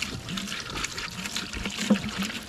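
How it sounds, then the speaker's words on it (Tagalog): Water being poured into a drinker for 45-day-old chicks, a soft, steady trickle and splash that runs continuously at close range with no talk over it. "Tulungan na natin si Sir Georgie maglagay ng tubig"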